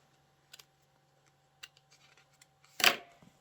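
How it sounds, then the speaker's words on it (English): Scissors snipping paper for a collage, heard as a few faint, sparse clicks and then one louder crisp cut near the end. The sound is close and quiet, with a low hum underneath. "these I'm just going to snip this off"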